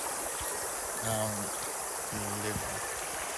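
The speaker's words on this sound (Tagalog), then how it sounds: "Nasa ilog kami, ay nasa batis kami." River stream at a riverside camping spot, a steady broadband rush of flowing water throughout, with two brief low tonal hums and a short spoken word over it.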